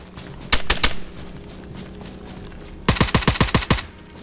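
Gunshots in the video game DayZ: a quick burst of three loud shots, a pause, then a rapid string of about eight sharp shots close by, over a low background hum.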